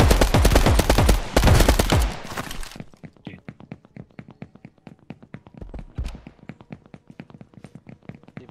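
Gunfire in the Mini Royale video game: a loud burst of rapid automatic fire at first, then a long run of quieter, evenly spaced shots from farther off, with one louder shot partway through.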